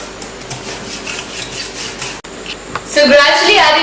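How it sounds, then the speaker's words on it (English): A whisk scrapes and rubs briskly through curd and sugar in a bowl for a zebra marble cake, a faint scratchy rasp at first that swells into louder, rapid rhythmic strokes against the bowl near the end. "Now we are going to whisk this up too"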